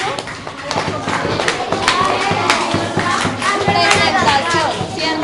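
Schoolchildren clapping for a class presentation in a classroom, a loud, uneven patter of small hands with excited shouts and chatter from the kids mixed in throughout.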